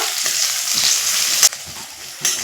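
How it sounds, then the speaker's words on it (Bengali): Chopped onion, garlic and green chili sizzle loudly in hot oil with cumin seeds, a close, steady hiss broken by a few sharp scrapes as the pan is stirred. "পেঁয়াজ কুচি রসুন কুচি কাঁচা লঙ্কা কুচি দিয়ে একটু নাড়াচাড়া করে নেব"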